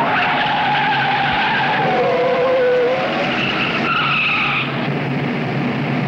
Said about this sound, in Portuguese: A freada do sargento é violenta